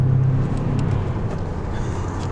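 A BMW E46 330 engine thrums at low RPM around 1500, a deep, steady rumble heard close up from inside the car, moderately loud and continuous over a brief stretch.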